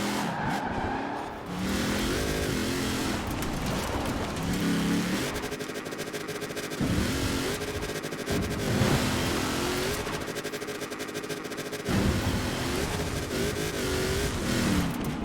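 A 2019 Hennessey VelociRaptor 6X6 pickup in Forza Horizon 4 revving and accelerating through corners, its engine droning loudly and steadily with repeated gear shifts and the occasional squeal of tires.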